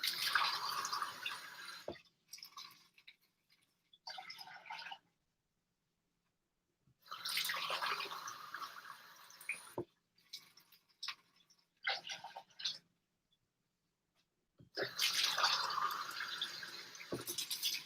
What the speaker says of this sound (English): And let's go ahead and start to fill the pot with water.